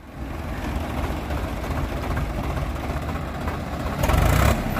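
A Swaraj tractor engine runs with a steady, rough low rumble close by, swelling louder for a moment near the end.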